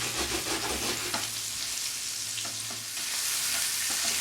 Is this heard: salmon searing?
yes